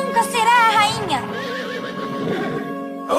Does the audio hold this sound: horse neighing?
yes